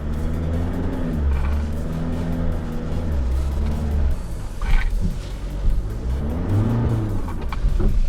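A 2021 Mitsubishi Triton Super Select 4WD pickup revs its engine hard while its wheels spin without diff lock, a loud, continuous, wavering engine roar that surges and dips, with no talk.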